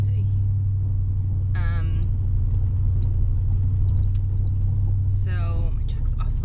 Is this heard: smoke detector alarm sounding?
no